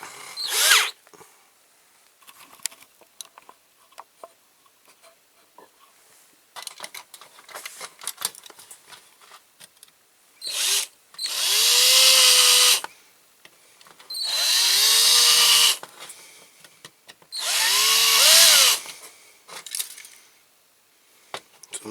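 A power drill runs on a Corgi Toys Ford Consul diecast model during a restoration, in three sustained loud bursts of whining, grinding drilling separated by short pauses, with light handling clicks before them and no talk.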